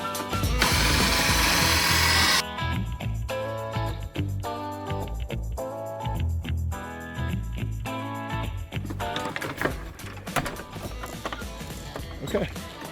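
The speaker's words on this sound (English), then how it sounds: "The first drill bit was shot and disgusting and horrible, so we're gonna try this again with the newer one." A power drill with a fresh bit bores into a damaged farm gate in a loud, harsh burst of about two seconds. Clanks, rattles and handling noises follow as work continues.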